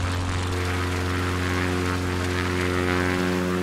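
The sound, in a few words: airplane propeller engine in Microsoft Flight Simulator video game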